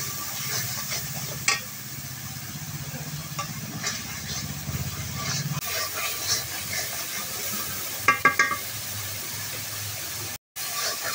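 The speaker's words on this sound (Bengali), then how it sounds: "এখন ভালোভাবে মশলাটা মিশিয়ে নিব।" Spices are stirred into frying fish curry with winter vegetables, a steady sizzle and scraping of a spoon in the pan, with a few metallic clinks and a brief dropout near the end.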